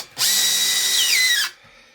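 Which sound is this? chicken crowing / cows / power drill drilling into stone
power drill drilling into stone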